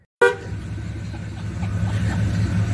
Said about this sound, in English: I didn't know he was going to honk the horn.